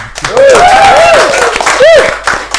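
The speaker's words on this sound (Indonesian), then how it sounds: "Tepuk tangan dulu" Studio guests from a band are greeted with quick, close hand claps on an Indonesian talk show, the clapping mixed under loud whooping and cheering voices that rise and fall.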